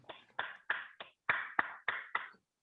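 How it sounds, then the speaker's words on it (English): Audience members at a script reading snap their fingers for a performer, about eight sharp, separate snaps in an uneven rhythm, close and crisp with silence between them. "Let's give up a round of applause for Bri"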